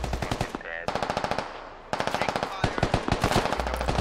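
Sustained automatic gunfire in the SquadOps video game rattles in rapid, dense bursts with brief pauses between them, loud and close, with faint voices underneath.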